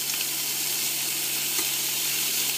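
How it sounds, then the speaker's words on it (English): A bacon-wrapped bream fillet sizzles steadily in a hot frying pan, a loud, even hiss of frying fat that continues without pause. "drop our bream fillet, which has been wrapped in bacon, into the pan"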